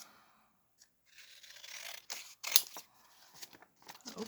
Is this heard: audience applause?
no